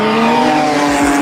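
A Subaru WRX race car at a time attack event screams past at high revs, a loud steady engine drone with a brief tire squeal, heard close for just over a second.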